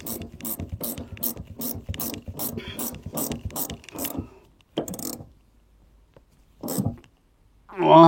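A ratchet tightens the rod nut on a rear shock absorber of a Renault Captur, clicking in a quick steady run of about a dozen strokes, then a few separate bursts after pauses, close up with no speech.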